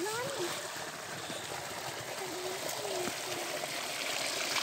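Water flowing and trickling steadily as planted tomato seedlings are watered outdoors, a continuous running stream close by with occasional splashes, while people talk over it.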